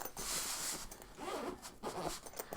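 A heavy-duty zipper on a bagpipe gear case being pulled in several quick, close strokes with short pauses between them, crisp and fairly quiet in an indoor room.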